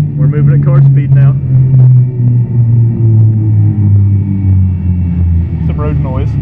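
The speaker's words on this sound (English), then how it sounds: "Some road noise." A steady, loud low rumble of road noise fills the cabin of a Nissan Skyline GT-R at speed on a long drive, with people talking briefly near the start and end.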